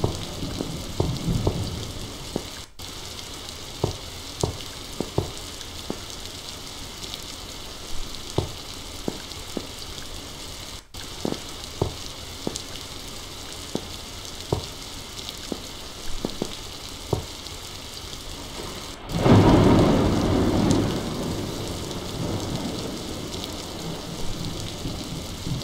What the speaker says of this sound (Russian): Ой, дождь идет. Начался и громко гремит молния.